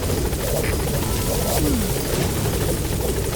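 A support helicopter in Metal Gear Solid V arrives with a loud, steady rotor chop and engine roar that dominate throughout.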